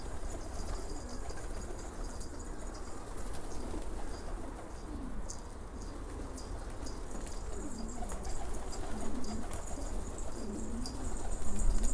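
Parti-coloured çakmak pigeons and their four chicks coo in a loft, low repeated coos rising and falling steadily over a dense backdrop of other birds, fairly close and continuous.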